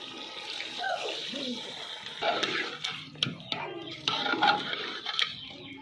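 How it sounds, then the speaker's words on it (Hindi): Water is poured into a pot of mutton korma to make the broth, a splashing, gurgling pour with uneven bursts lasting several seconds, no talk. "तो अभी इसमें पानी डाला जाएगा इसमें शोरबे के लिए।"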